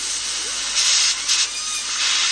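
Compressed air hissing through a cleared chainsaw bar during maintenance, a steady close broadband hiss with a couple of louder bursts partway through.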